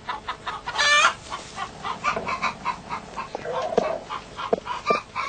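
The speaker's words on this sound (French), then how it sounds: "Les poules s'affolent." Panicked hens in a henhouse cluck and squawk in rapid, irregular bursts, with a few sharper cries and fluttery movement, moderately close, while a marten pokes among the nests.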